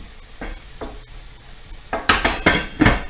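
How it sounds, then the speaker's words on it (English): A spoon stirs and scrapes food around a hot pan, with faint sizzling at first and then a cluster of louder clattering knocks against the metal near the end. "give it a good stir back here. Just kind of roll it around."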